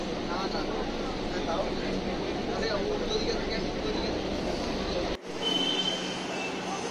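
Riding a Kolkata metro train brings a steady, loud rolling roar with faint squeals and a brief dropout near the end, while people talk over it.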